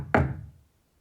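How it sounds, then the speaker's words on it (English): A single soft knock at a door, one short muted thump close by that dies away quickly into silence. "when he heard a soft knock at the door"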